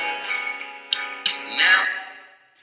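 A sung vocal line washed in lush reverb, with a couple of sharp ticks and a long echoing tail that fades out.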